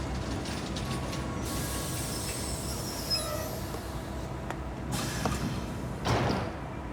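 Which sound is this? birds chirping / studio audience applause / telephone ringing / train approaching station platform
train approaching station platform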